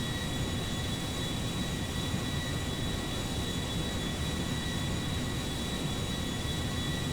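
Boeing 787 Dreamliner jet engines roaring steadily at takeoff power in GTA V, a constant broadband rumble with no talk over it.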